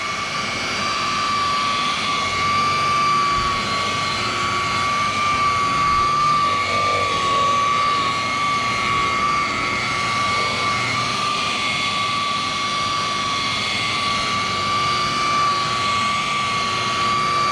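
A car paint polishing machine running steadily at about 1400 to 1600 RPM, a loud constant whirring drone with a steady high tone throughout, with no talking.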